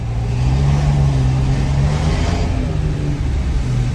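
A car engine with a deep, throaty dual exhaust revs steadily, a loud continuous growl that swells slightly in the middle and holds close throughout.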